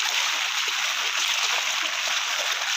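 Rainwater runs like a small stream toward a pond in the rainy season, giving a steady, close rushing and splashing hiss that holds even throughout.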